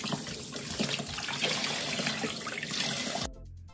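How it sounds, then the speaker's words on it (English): Zucchini being washed under a running kitchen tap: a steady, close splash of water for about three seconds that then cuts off abruptly. "First, let's give this zucchini a real good washing."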